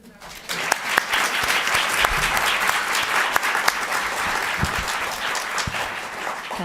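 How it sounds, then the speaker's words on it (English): An audience at a panel discussion on a nuclear fusion breakthrough gives a sustained round of applause, dense clapping rising quickly and holding steady for several seconds. "a round of applause for our panelists"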